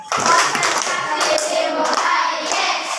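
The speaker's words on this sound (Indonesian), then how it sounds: "Tepuk konsentrasi." Schoolchildren in an Indonesian classroom perform a patterned concentration clap on the teacher's cue, a busy rhythmic spatter of small hands clapping together, close and fairly loud for about three seconds with faint children's voices mixed in.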